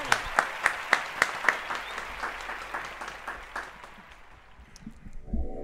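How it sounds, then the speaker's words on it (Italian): Small audience clapping at an interview, a handful of distinct, regular claps near at first, thinning into scattered light applause that fades out. "Applausone per voi"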